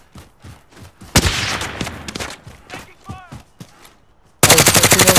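Gunfire in Call of Duty Warzone: loud automatic bursts and single shots crack out close by, building into a heavy sustained burst at the end, with footsteps and game voices in between.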